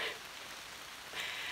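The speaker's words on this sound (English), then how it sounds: "Yeah, it's like the heaviest rain I've walked in yet." Heavy rain falls steadily while walking the Camino Primitivo in Galicia, a dense hiss of drops on surfaces close to the microphone, briefly louder at the start and end.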